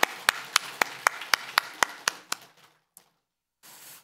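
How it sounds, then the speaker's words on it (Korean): A church congregation claps in steady, unison rhythm to honor mothers during a Parents' Week service: about a dozen crisp, evenly spaced claps that fade out, then a pause and a soft wash of room noise. "박수 한번 쳐드리겠습니다."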